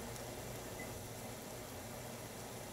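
Kitchen exhaust fan running on low above a stove while shrimp fra diavolo cooks, a steady broadband whoosh that stays constant and fairly loud throughout, masking other sounds.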